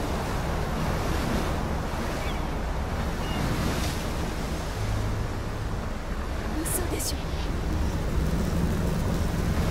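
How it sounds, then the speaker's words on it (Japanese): Stormy seaside in the video game Life Is Strange, with a dense, continuous roar of crashing waves and gusting wind filling the scene at steady loudness. "結構な嵐ですね"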